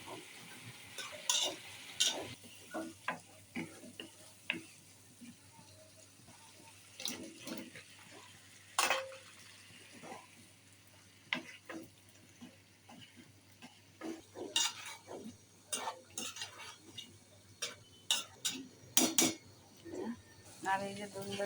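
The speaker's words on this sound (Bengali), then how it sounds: "মাছের মশলাটা সুন্দর কষাই নিতে আছে। এটা কষানো হবে" A spatula stirs and scrapes fish masala as it sautés in a pan, giving quiet, irregular clicks and scrapes spread across the whole stretch, with a soft steady background hum.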